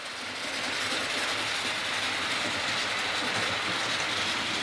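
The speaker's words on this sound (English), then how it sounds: "here we are running at a little bit of pace here with these carriages" A Hornby model train pulls Mark 3 coaches along a track at a fair pace, a continuous, even rumbling and clicking roll heard close by with no voices.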